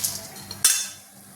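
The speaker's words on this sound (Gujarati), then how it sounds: "હવે આપણે આવું મોટું વાસણ લેવાનું છે અને મમરાને આપણે લઈ લેવાના છે" Dry puffed rice being poured and scraped into a large metal pot for mamara chevdo, with a quiet rustling clatter, a sharp utensil clink partway through and a soft fading scrape after it.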